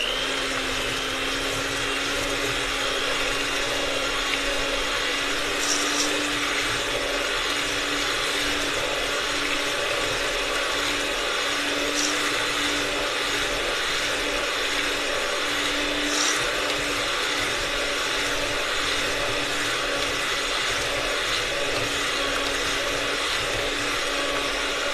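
An electric mixer beats four eggs into banana bread batter with a steady whirring drone and a faint rattle from the bowl, running on without a break and no talking.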